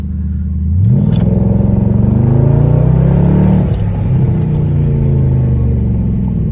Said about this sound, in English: The car accelerates very quickly. I'm gonna show that to you right now.